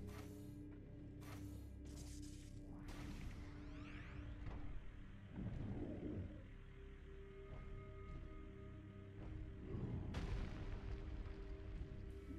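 Bomb blasts from the video game Metroid Prime 3 burst out as several booming, explosive hits over a steady electronic game soundscape, with loud bursts around the middle and again near the end.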